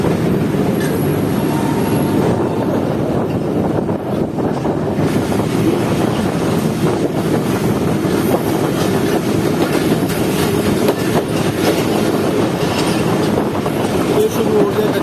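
Jaffer Express passenger train rolling over the long Jhelum bridge above the Jhelum river, with a steady loud rumble of wheels and rail noise throughout and a faint wheel squeal near the start.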